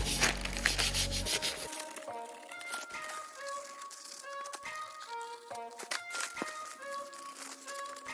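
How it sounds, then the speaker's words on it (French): An orbital sander smooths the tail light lenses of a Peugeot 508, a steady close rubbing hiss with light rattles and crinkly scraping, preceded by a brief louder burst at the start. "On a poncé les feux au 1000 avec une ponceuse orbitale"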